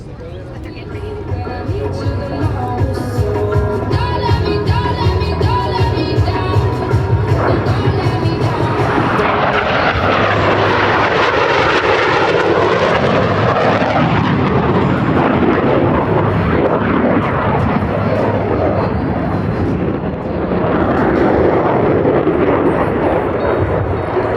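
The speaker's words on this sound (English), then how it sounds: "the opposing inverted to inverted rolls" Blue Angels F-18 jets flying opposing inverted rolls at an air show: a loud, sustained roaring jet rumble that swells into a sweeping pass with a Doppler shift, then keeps thundering, with an announcer talking under the noise.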